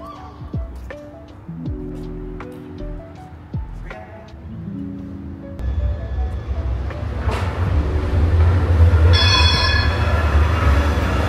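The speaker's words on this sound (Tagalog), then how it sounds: "Waiting for the train." A train pulls into an indoor station in Qatar, its wheels squealing in drawn-out, high tones before the rumble of the cars builds and grows louder as it arrives.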